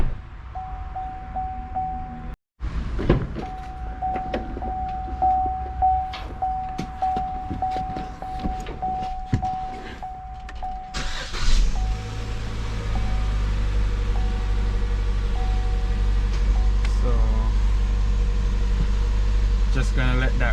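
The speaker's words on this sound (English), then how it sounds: "We're gonna go ahead and crank the car up." A Buick Encore engine cranks and settles into a steady running drone, preceded by several seconds of garage noise with a thin steady tone; after the start a loud continuous low rumble holds to the end.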